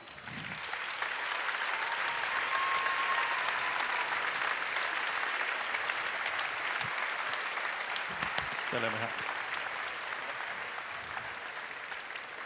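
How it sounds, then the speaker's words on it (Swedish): An audience at the Årets Kock 2014 cooking-competition final applauds a bronze medal winner, with loud, steady, dense clapping that fills the room and continues without pause. "Och folkets jubel. Stor applåd"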